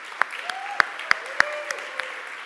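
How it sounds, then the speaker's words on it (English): At a JavaScript conference talk, a handful of scattered claps ring out from the audience, sharp and sparse with gaps between them rather than a full ovation, alongside a faint thin tone. "how about we start by giving the organization staff our hands of applause"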